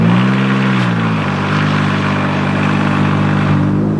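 2012 Jeep Wrangler JKU with the 3.6 engine, no exhaust beyond the cats, roaring extremely loud and close, revving briefly then settling into a steady harsh drone.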